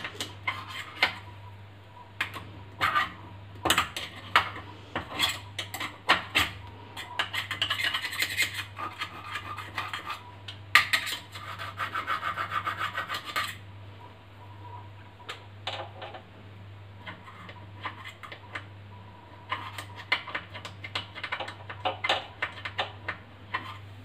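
Kitchen wall tiles being scrubbed clean by hand, close rubbing and scratching strokes that come in bursts with pauses between them, over a steady low hum.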